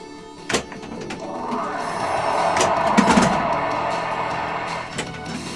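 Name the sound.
spinner turning on a Rollergames pinball machine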